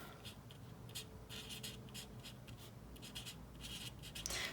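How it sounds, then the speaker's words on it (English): A Zebra Mildliner pen writes on paper in a planner, with soft, close scratchy strokes coming in short bursts separated by brief pauses, quiet and without speech. "So let me go ahead and write mild liner."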